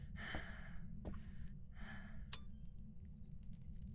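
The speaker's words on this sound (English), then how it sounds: "Would you stop heavy breathing on me?" Heavy breathing in the Phasmophobia ghost-hunting game, two or three long airy breaths with sharp gasps and sniffs, close and soft over a low rumbling background hum, no talk.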